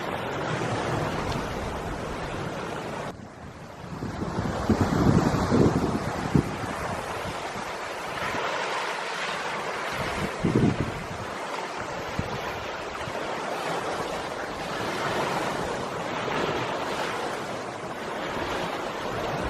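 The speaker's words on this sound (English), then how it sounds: "The waves, I'm sure, are being caused by the wind." Steady rushing wash of wind-blown waves lapping on a lake below Mount Moran in Grand Teton National Park, Wyoming, with gusty wind buffeting the microphone throughout; no voices.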